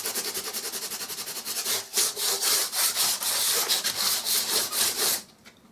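Filler in a patched downlight hole is hand-sanded with quick, rhythmic back-and-forth rasping strokes, close and even, that stop abruptly after about five seconds.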